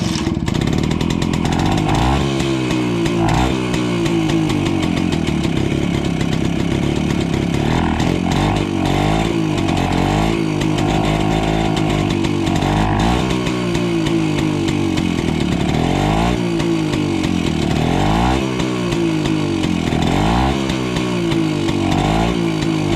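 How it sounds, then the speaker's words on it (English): BSA Bantam D3 motorcycle's small single-cylinder engine running steadily after a kick start during a workshop restoration, a loud, continuous buzzing putter with slight uneven wavering, close by and alone without talk. "So no throttle, just kick it as soon as it fires"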